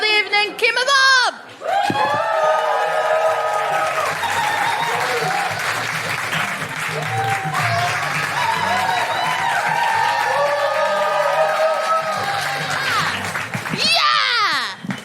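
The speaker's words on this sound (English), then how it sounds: "Please whoop, cheer, clap, and hoot if you would like for your host for the evening, Kima Bob!" Comedy club audience whooping, cheering, hooting and clapping for the host, a loud sustained burst of applause and shouts that swells and then fades, with a short spoken line heard before it.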